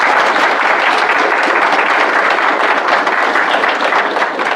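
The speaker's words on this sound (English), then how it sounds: "enough clapping" A large audience at an academic lecture applauds continuously, a dense, loud and steady roar of many hands clapping with no break, and no talk over it.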